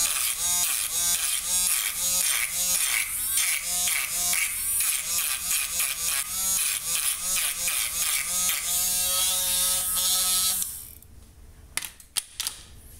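A Dremel rotary tool stippling a polymer Glock pistol frame gives a close, loud, steady buzzing whine, pulsing in rapid bursts as the bit touches the frame, then cutting off near the end and leaving faint handling noise.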